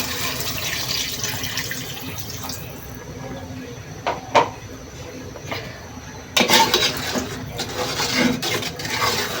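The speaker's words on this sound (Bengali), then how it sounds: "তো আমি ঝোলের পানি দিয়ে দিলাম।" Water is poured into an ash gourd and hilsa fish curry in a cooking pan, a close splashing gush in short bursts over a low kitchen background.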